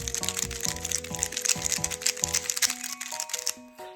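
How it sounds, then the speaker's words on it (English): A YS3M speedcube is turned rapidly in the hands, making a dense, creamy run of clicking and clacking like a keyboard being typed on, close and steady, ending with a few slower turns. "I absolutely love the way this cube sounds"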